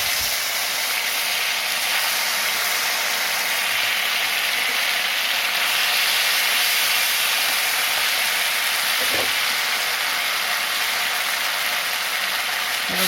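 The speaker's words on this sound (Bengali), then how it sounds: "শুকনো লঙ্কা, জিরা ফোড়ন দিলাম" Bay leaf, dried red chilli and cumin seeds tempering in hot oil in a kadai, a dense continuous hiss and sputter heard close and alone for the whole stretch.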